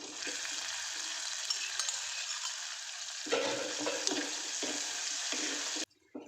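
Crushed garlic and onions sizzle in hot oil for a tempering, a steady bright frying hiss with occasional stirring bumps that cuts off abruptly near the end.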